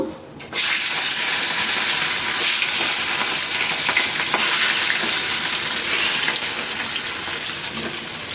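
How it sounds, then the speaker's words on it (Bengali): Rohu fish pieces frying in a pan on a stove, a loud, steady sizzle that starts abruptly and holds dense and close for several seconds with no talking. "এই চুলায় হলো মাছ হইতেছে, রুই মাছ ভাজতে দিছি।"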